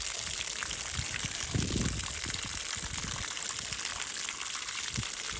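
Running water during a bench test of a 1968 Evinrude boat motor, a faint, steady hiss and gush with scattered low splashes and knocks throughout.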